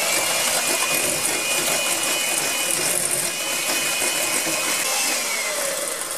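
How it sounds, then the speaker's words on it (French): A small electric hand mixer beats egg yolks in a bowl for a fat-free chocolate cake, giving a steady, loud whirring buzz with a constant motor whine that runs unbroken and alone. "avec mon petit batteur, je vais battre et blanchir mes jaunes"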